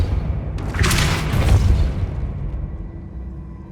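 Depulso spell blast in Hogwarts Legacy, a single heavy booming burst with a bright crackling rush that swells and then fades into a low rumbling tail.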